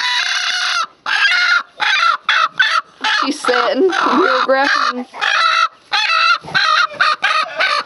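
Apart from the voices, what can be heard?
hens clucking in chicken house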